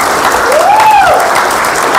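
Audience applause at a business gathering, a steady sustained clapping from a crowd that stays loud and even throughout, with a brief rising tone sweeping over it.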